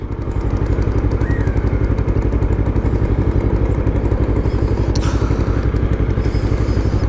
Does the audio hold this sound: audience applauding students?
no